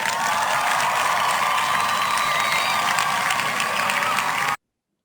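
An audience at a biochemistry quiz claps for the competing students, a dense steady applause from many people that fills the room at even loudness and stops abruptly.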